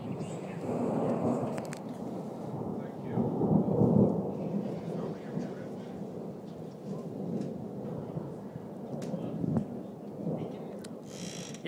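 Thunder rumbles during an Idaho thunderstorm, low rolling peaks swelling and fading over several seconds amid faint rain, with people talking at times.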